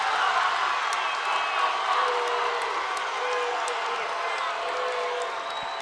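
A crowd in a school auditorium during a section semifinal basketball game between Goodhue and Lyle-Pacelli, a steady roaring wash of cheering and noise throughout, with a commentator talking over it.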